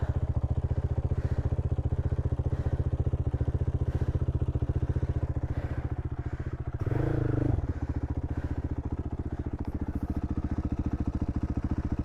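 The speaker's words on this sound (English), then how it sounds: "Where are the clanking noises coming from?" A motorcycle rides along with a steady engine drone and a faint clanking, metallic rattle running under it, and one louder brief clunk partway through.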